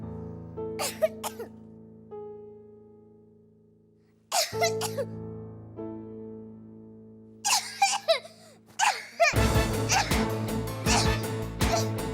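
A child gives several short coughs and throat-clearing bursts in separate clusters, each followed by a lingering musical tone in the background, in a Hindi TV thriller scene.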